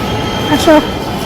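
A train passes overhead in a brief, close rush of rumble with a short tonal squeal in the middle.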